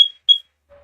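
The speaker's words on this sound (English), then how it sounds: "my smoke alarm is ringing" A smoke alarm gives two short, high-pitched electronic chirps in quick succession, loud and close, followed by a faint low tone.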